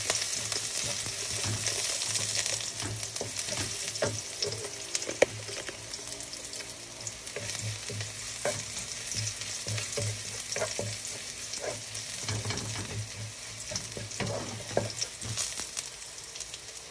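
Garlic sautéing in a pan for a simple home-style sayote (chayote) dish, giving a moderate continuous sizzle with scattered crackles and light stirring scrapes, no voices.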